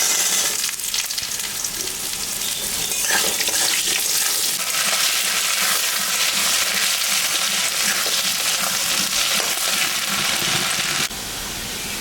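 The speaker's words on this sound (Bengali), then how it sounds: "আলুটা ভাজা হয়ে গেছে।" Potato pieces fry in a pan for a home-style paneer and soybean curry, giving a steady, close, continuous sizzle with a bubbling hiss that holds throughout without any talking.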